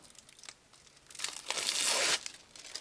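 Protective cover peeled off a diamond painting sticker sheet, a short crinkly tearing rustle that swells to a loud close peel for about a second, then fades.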